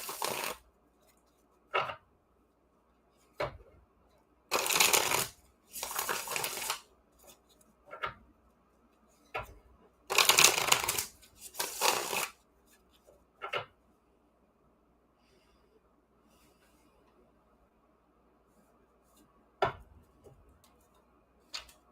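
Tarot card deck being shuffled, crisp riffling bursts of flapping cards alternating with single taps and pauses, close and clear with no speech.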